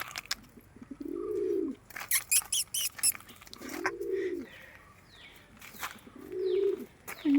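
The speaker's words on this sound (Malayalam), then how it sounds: "നല്ല ക്വാളിറ്റിയുള്ള മുഖിപ്രാവാണ് ഗൈസ് ഇത്." A black Mukhi pigeon, an aged bird that can no longer fly, gives three separate low rolling coos spaced a couple of seconds apart, close by, with faint bird chirps and some handling noise between them.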